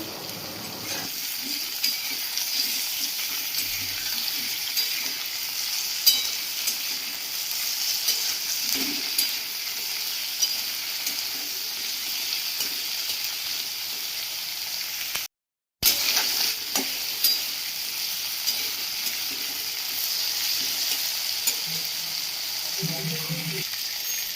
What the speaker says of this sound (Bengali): আমাকে এটা ভালো করে ভাজা করে নিতে হবে